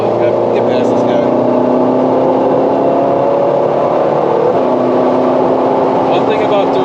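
A Ferrari 458 on a rural Texas road accelerates to pass another vehicle, a steady loud engine whir that climbs in pitch and holds, with a shift near the end and a voice faintly underneath.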